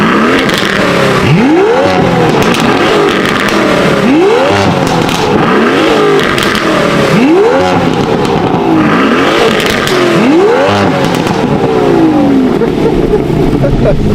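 Two Aston Martin V12 Vantage cars fitted with Quicksilver exhaust systems rev together, giving loud, close, repeated throttle blips that rise and fall roughly every two seconds over a constant engine roar.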